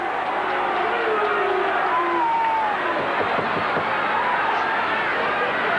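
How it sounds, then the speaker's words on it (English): A rugby league crowd at a 1990 Canterbury versus Penrith match roars steadily, a broad continuous swell of cheering and chatter from a large stadium audience, with a commentator's voice faintly woven in. "The crowd comes alive at the head of something for this Penrith side"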